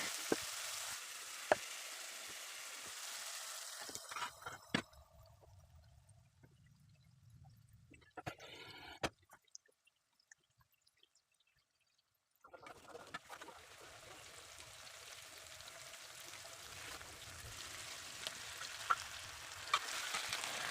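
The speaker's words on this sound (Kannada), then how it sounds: "ಇವಾಗ ಆಲೂಗಡ್ಡೆ ಪಲ್ಯಕ್ಕೆ ಸ್ವಲ್ಪ ಒಗ್ಗರಣೆ ಹಾಕ್ಕೊಂಡು ಈರುಳ್ಳಿ ಟೊಮೆಟೊ ಹಾಕ್ಕೊಂಡು ಬೆಂದಿರೋಂಥ ಆಲೂಗಡ್ಡೆನ ಸ್ಮ್ಯಾಶ್ ಮಾಡಿಬಿಟ್ಟು ಇದ್ದೀನಿ" Mashed potatoes with soaked peas, onion and tomato sizzle steadily in a tempered pan, with brief stirring scrapes; a quiet lull in the middle, then loud frying returns.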